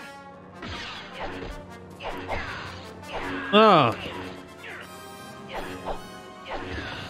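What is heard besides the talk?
lightsaber clashes in Star Wars video game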